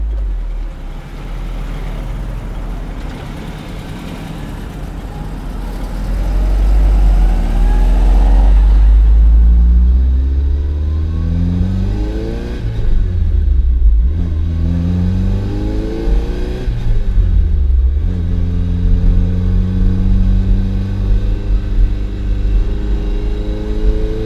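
A 1981 Ferrari 308 GTB with a carburetted V8 accelerating hard on the road, its loud engine climbing through the revs, dropping back at each gearshift and pulling up again through several gears.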